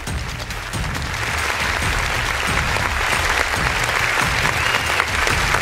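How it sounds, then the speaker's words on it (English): Sustained, dense audience applause fills a hall after a governor's remarks at an Urban 20 Sherpa meeting, steady and loud throughout with no voices over it. "please give a round of applause."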